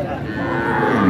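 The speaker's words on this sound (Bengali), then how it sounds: "এই যে দেখছেন এখানে আরেকটি গরু আছে" A dairy cow at the Ambari cattle market in Dinajpur gives one sustained, low, close moo lasting about a second, over a soft murmur of market background.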